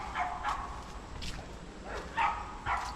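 Dogs bark and yip at a distance in an outdoor rural setting in Sampaloc, Quezon, several short bursts spread across a few seconds over faint background noise.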